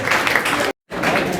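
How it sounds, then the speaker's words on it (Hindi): Loud applause for a student honored for high commerce-stream exam marks at a school award ceremony: dense, energetic clapping from an audience, cut by a brief silent gap midway, then resuming at the same strength. "कई के लिए जोरदार तालियां"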